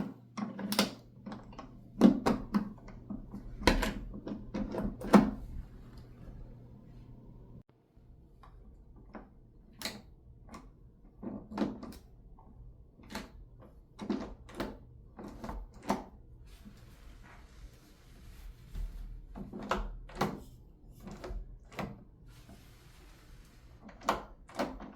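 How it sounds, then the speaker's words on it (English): Kwikset door lever and latch worked by hand, giving repeated sharp metallic clicks and clacks at close range in uneven bursts, with a faint steady hum beneath during the first part and no talking. "Make sure the door latch closes properly against the door strike plate."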